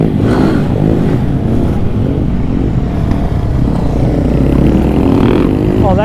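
Supermoto motorcycle engine roaring close by on an off-road outing, loud and steady with rising revs, a voice briefly talking over it.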